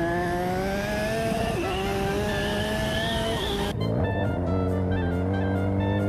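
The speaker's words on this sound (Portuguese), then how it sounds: "Mano, eu tô de moto, velho." Yamaha XJ6 turbo motorcycle ridden in GTA San Andreas, a steady loud engine drone with shifting pitch that drops sharply midway, then settles into a lower rumble with tonal harmonics throughout.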